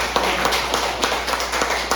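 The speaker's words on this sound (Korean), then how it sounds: "오늘 우리 이선재 교수님 다시 한번 뜨거운 박수 부탁드립니다." An audience at a Korean breakfast forum applauds a professor, a brief, steady patter of many hands clapping at close range, with no pause.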